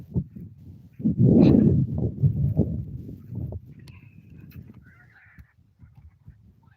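Birds call loudly and raucously over village farm fields, a dense burst of honking, goose-like cries swelling near the start and then thinning into scattered fainter calls.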